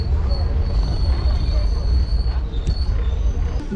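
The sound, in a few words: passenger train departing Beldanga station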